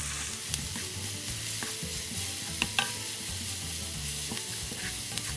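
Zucchini filling stirred in a hot pan with salt and pepper, a constant sizzle with occasional light taps and scrapes of the utensil against the pan, close and steady.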